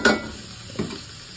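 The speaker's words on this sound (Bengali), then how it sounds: "রসুনটা দিয়ে আগে একটু ফ্রাইটা করে নিচ্ছে আর কি" Garlic frying in a little oil for chicken soup at a food stall, a faint sizzle with two short stirring scrapes from a utensil against the pan, close and without talk.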